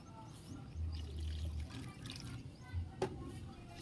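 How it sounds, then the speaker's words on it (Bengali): A bowl of water poured into mung dal cooked with a fish head and spices, a soft low pour lasting about a second, followed by faint stirring and a small clink near the end. "মেশানো হয়ে গেলে 1 বাটি পরিমাণ জল দিয়ে দিতে হবে।"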